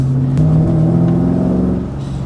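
A V8 car engine revs hard as it accelerates, a loud, steady, throaty roar close by with rising harmonic tones and no talk.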